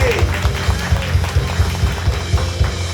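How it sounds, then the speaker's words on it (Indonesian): A congregation claps during a church service at GBI WTC Cilegon, giving a steady, dense wash of applause with a rhythmic low thumping running beneath it throughout. "tepuk tangan buat Tuhan Yesus sekali lagi"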